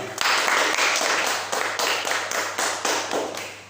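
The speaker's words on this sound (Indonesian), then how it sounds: "Beri tepuk tangan untuk kelompok 2" Students in a math classroom clap for a group of classmates, a steady run of close, sharp hand claps with a few louder accents, fairly loud and without talk.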